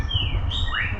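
Small birds chirping as they fly about at a dreamlike tropical spot in the Cancún and Riviera Maya area, giving a few clear, rising tweets over a low, steady outdoor background.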